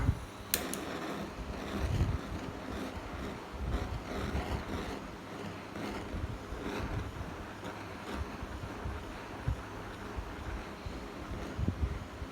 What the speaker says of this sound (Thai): ผมจะ เป่าไฟนิดนึง เพื่อช่วย ให้มันทำปฏิกิริยาดีขึ้นนะครับ